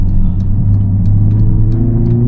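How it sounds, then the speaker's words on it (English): The engine of a Mercedes-AMG A45 S, rated at 421 hp, revs loudly from inside the car. Its harmonic note rises steadily over a couple of seconds, with no speech. "This engine just revs so quick."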